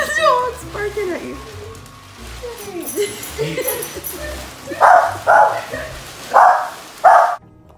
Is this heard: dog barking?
yes